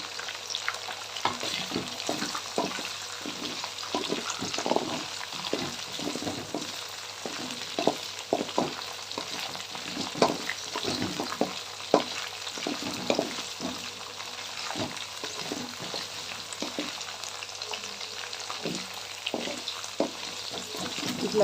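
Okra sizzles in hot oil for a masala curry, a steady close crackle broken by frequent stirring clatters throughout, with no talk.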